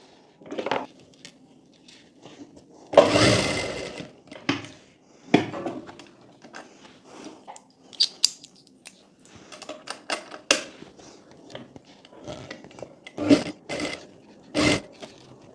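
Sewing machine stitching a Sabyasachi-style blouse, heard as scattered close clacks and short mechanical bursts with quiet gaps, no talking.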